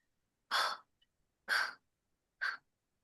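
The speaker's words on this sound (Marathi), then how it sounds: "नाकाने श्वास घेऊन तोंडाने सोडा." Three slow, soft breaths exhaled about a second apart during a yoga class, each a short airy puff, drawn in through the nose and released through the mouth, with quiet between them.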